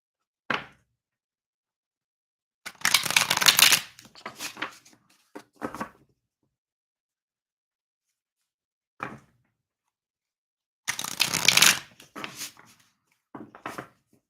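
Tarot cards being shuffled in two brisk bursts of riffling and rustling, each a second or so long, with a few soft taps and thumps of handling between them, close and fairly quiet.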